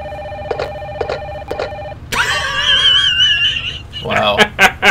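A telephone rings in the PlayStation game Parasite Eve, with three short repeated ring bursts in steady rhythm before a voice takes over and talks loudly.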